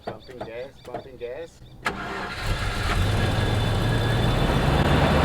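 A Land Rover Discovery with a bypassed immobiliser cranks briefly and fires up, then settles into a loud, steady idle up close while someone talks over the first moments.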